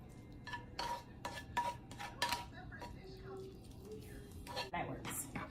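Spinach and cheese go into a cooking pan with soft clinks and scrapes of a utensil against the pan, faint and close, while someone talks over the kitchen sounds.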